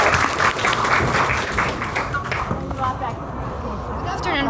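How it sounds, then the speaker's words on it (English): An audience applauding students as they come onto a school stage at a youth event, a dense burst of clapping that fades and thins out toward the end. "Everybody give them a huge round of applause."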